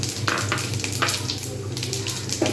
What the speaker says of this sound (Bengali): এই তেলেতেই আমি দিয়ে দেবো পাঁচ ফোড়ন আর শুকনো লঙ্কা ফোড়ন